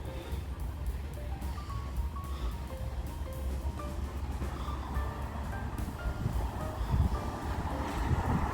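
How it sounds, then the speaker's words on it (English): Steady wind buffets the microphone outdoors where a drone is being flown near a road, a continuous low rushing that stays fairly even throughout with no clear voices. "It is windy."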